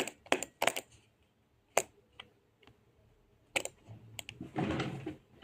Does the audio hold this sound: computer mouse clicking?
yes